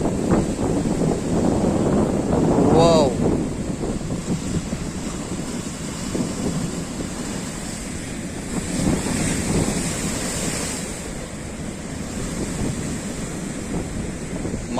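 Rough sea waves surge and crash at high tide during a Kalbaishakhi storm, a loud continuous roar of surf mixed with heavy wind buffeting the microphone.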